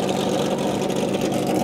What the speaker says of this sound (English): the number 55 of Brian Vickers is tuning his engine right here for practice